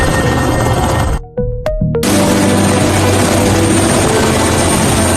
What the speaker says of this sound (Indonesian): Ia memerintahkan helikopter berbalik arah dan memutuskan kembali menjemput warga sipil yang ditinggalkan.